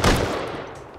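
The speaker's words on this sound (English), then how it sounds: "Turrets going on." Automatic turrets firing in the video game Rust, a short, harsh burst of rapid gunfire that hits hard at the start and trails off over about a second.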